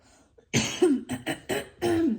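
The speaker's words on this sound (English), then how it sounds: "I need to clear my throat." A person clears their throat several times in a row, a series of short, raspy bursts with brief pauses, close and fairly loud.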